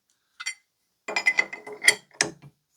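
A ratchet clicks in a few short bursts while a bolt is tightened on a front-mount HEI distributor built for an LS 5.3 engine, close and crisp against near silence.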